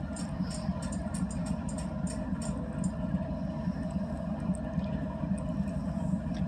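Idling CSX coal train diesel locomotives at Terra Alta, West Virginia, at night, a steady low engine rumble that holds evenly throughout, with faint higher clicks above it and no talk.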